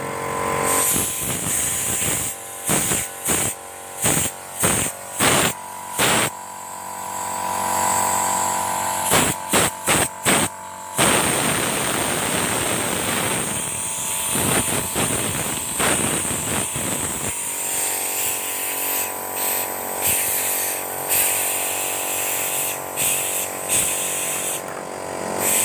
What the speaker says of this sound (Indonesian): Inilah proses pembersihan nozzle dengan tekanan angin.